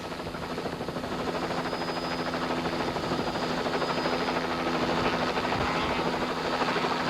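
A helicopter hovers overhead filming a car on a 1992 Tour de Total rally stage, its rotor thrumming in a steady, continuous drone that fills the whole stretch with no talking.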